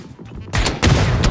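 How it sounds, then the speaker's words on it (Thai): Gunfire in the PUBG battle royale game while shooting at a vehicle's tyres: a quiet moment, then two loud, dense bursts of rapid shots in quick succession. "กำลังยิงยางรถเพลินๆเลย"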